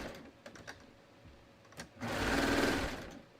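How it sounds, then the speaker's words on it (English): A sewing machine runs a short basting pass joining a pocket to a sleeve, a steady whirring burst of about a second and a half that comes after a few soft clicks and handling noises. "I'm just going to sort of sew these together so they're basted"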